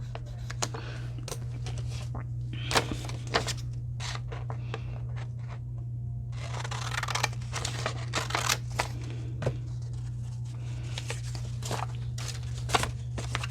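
Scissors snipping through paper for a planner, a close series of crisp, irregular cuts with occasional paper crinkling and rustling between them, over a steady low electrical hum, with no talking.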